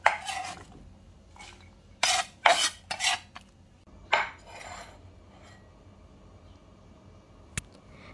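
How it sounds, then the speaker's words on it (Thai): A knife chops scallions on a board in a few sharp clustered clacks and scrapes, quiet and close, with long near-silent gaps between bursts. "ต้นหอมเราก็นำมาหั่นเป็นท่อนๆค่ะ"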